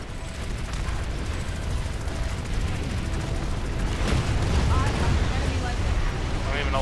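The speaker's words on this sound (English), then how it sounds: "I don't even know what the hell was shooting me there" Sustained gunfire during a Planetside 2 battle, dense overlapping shots and bursts over continuous rumble, loud and close throughout, with a voice talking over it.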